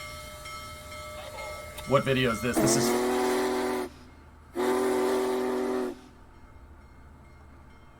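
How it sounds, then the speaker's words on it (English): Steam locomotive 4014 sounds its whistle in two long, loud, rich blasts separated by a short pause, played from a train video right after a person speaks briefly. "Listen to the whistle on this thing."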